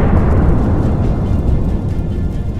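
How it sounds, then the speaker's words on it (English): A huge explosion sound effect in a museum exhibition about a naval battle and a sinking ship, heard as a loud, sustained low roar and rumble filling the whole stretch without letup. "Then came the huge explosion."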